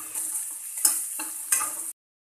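Onions and green chillies for mutton keema balls are sautéed in a pan, giving a steady sizzle broken by a few sharp stirring scrapes, close and alone, for about two seconds.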